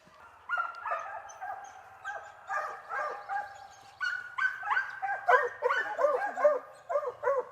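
Several dogs bark, yip and whimper in repeated overlapping bursts at a field trial involving coyotes, fairly close and lively, with no talking over them.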